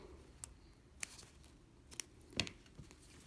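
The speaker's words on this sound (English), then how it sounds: "let me cut my thread" Scissors snip thread during Armenian needle lace work, several soft, separate cuts spaced over a few seconds, close and quiet with no talking.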